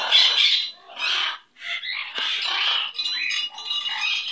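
A pet bird squawks and chirps repeatedly at close range, loud harsh calls in quick succession with short gaps, no talking.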